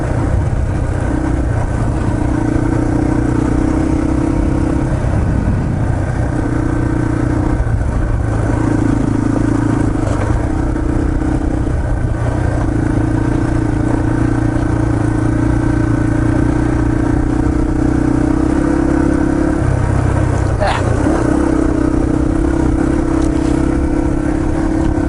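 A Yamaha TT-R230 dirt bike engine drones steadily throughout a trail ride at Windrock Park, loud and close with a low rhythmic thrum, brief dips and rises in throttle, and a short clatter near the end.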